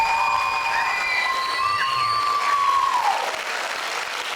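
Audience at a high school band and choir invitational breaks into sustained applause mixed with cheers and high whoops, steady and fairly loud throughout.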